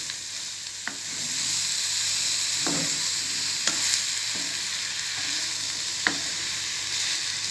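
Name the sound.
mushrooms sautéing and stirred in a pan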